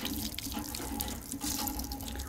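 Water gushes steadily from a village hand pump as a girl drinks outdoors, a continuous close splashing flow with no talk over it.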